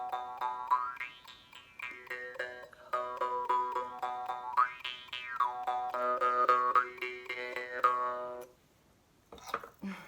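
A Sicilian marranzano jaw harp twangs in a steady rhythmic pulse, its bright overtones sweeping up and down in repeated phrases for about eight seconds, close and clear, ending with a brief noise.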